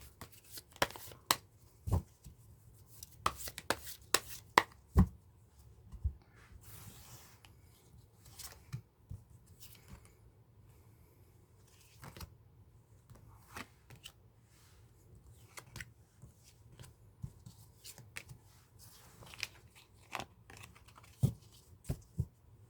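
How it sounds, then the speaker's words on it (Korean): Tarot cards are shuffled for a reading in a sustained stretch of soft riffling and sharp card slaps, irregular and close, with quiet pauses between bursts and no talking. "카드 셔플은 끝났습니다"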